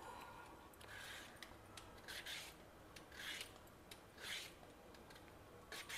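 A raw banana being peeled for South Indian banana chips gives a few soft, raspy scraping strokes at a steady, unhurried pace, close by and quiet.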